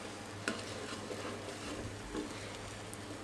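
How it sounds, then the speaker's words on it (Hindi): Onion, garlic and ginger paste frying in a pan for a chicken curry, a steady soft sizzle with a couple of light spoon scrapes and taps against the metal. "प्याज के पेस्ट को 2 से 3 मिनट के लिए हम ज़रा फ्राई कर लेंगे"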